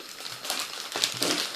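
Foil wrapping crinkles and crackles as a 2014 Balocco Pokémon chocolate Easter egg is unwrapped up close, in quick irregular rustling bursts.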